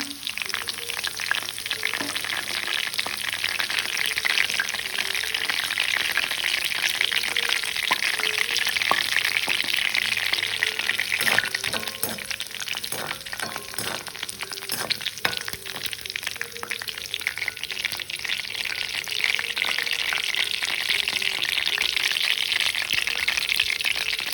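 Curry leaves and pandan leaves fry in hot oil in a pan. The sizzling is steady and close, crackling and spitting with scattered pops, and stirring noises break in now and then throughout.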